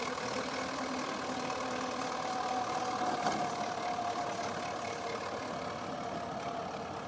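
A tractor engine with a rotavator attached runs steadily at a low, even idle after tilling a garden, a continuous close drone with no talk over it.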